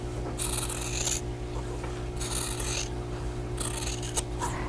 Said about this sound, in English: I'm just going to go ahead and use scissors since they're handy